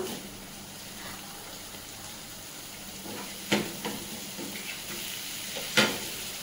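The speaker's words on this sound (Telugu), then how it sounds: "సో ఇప్పుడు ఇది ఫ్రై అయిపోయింది కదా" Mustard greens (sarson) frying in a pan give a steady close sizzle, with a couple of sharp stirring clatters partway through and no talking.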